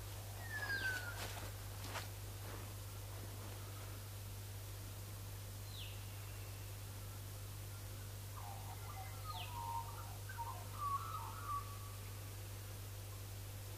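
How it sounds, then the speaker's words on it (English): Birds chirp and call in a backyard garden with raised beds: brief whistled notes and short trills come and go over a steady low hum, fairly distant and soft, with no one talking. "Birds."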